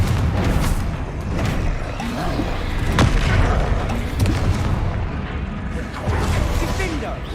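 Confringo fire-blast spells in the wizarding game Hogwarts Legacy boom repeatedly amid a dense, loud battle din of whooshes and impacts, with a voice calling out spell names throughout.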